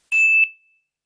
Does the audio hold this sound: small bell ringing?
yes